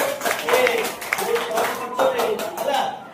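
Children in a school science class clap for a classmate who made turmeric-indicator greeting cards, a series of sharp, close handclaps in an uneven rhythm, mixed with voices talking and calling out.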